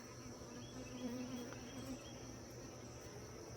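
A swarm of honeybees buzzes all around outdoors near a hive, a faint, continuous drone with a few individual bees humming slightly closer.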